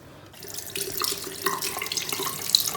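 Water runs steadily from a bathroom sink tap while brushes are being cleaned, starting after a brief quiet moment and then flowing as a continuous close splashing rush.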